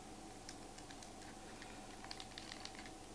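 Buttons on an iControlPad used in keyboard mode give a run of faint, light plastic clicks in irregular bursts, quiet and close against a steady background hiss.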